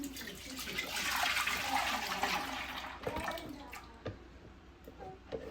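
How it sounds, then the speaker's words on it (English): A mixture of water, sourdough starter and honey pours out in a steady splash, then thins to faint drips and small knocks, close by and quiet. "here's my mixture: the water, starter, and honey, and I'm gonna dump it."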